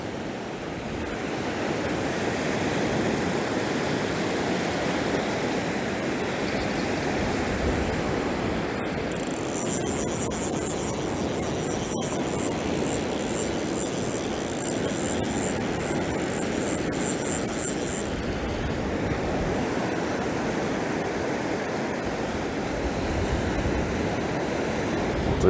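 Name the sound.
wind pushing sea water up at Drains Bay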